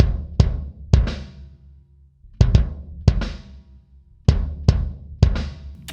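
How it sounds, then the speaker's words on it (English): An undampened Maple Custom kick drum tuned fairly high, miked with a Shure Beta 52, thumps in single and paired hits with a booming tail, loud and on its own. "Kick sounds like this."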